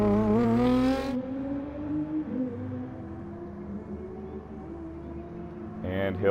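A Nissan GT-R Super GT race car, the number 32 Molson Canadian car in a racing game, revs high at first, then idles low and steady through a pit stop at Suzuka before revving again, under commentary.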